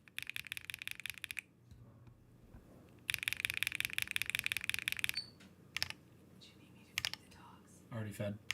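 Typing on a Holy60 keyboard fitted with HMX EVA switches, GMK keycaps and no foam: close, rapid clacking bursts, then a longer run of steady keystrokes and a few isolated clicks before faint background sounds.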